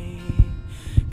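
A heartbeat heard with an ear pressed to a person's chest during an embrace: a few soft, low, muffled thumps spaced irregularly within about a second, faint against a quiet hum.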